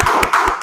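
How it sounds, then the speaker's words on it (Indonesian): A classroom of students clap their hands after a group presentation, a short burst of several close, sharp claps in an uneven rhythm with no talking. "Ya, tepuk tangan."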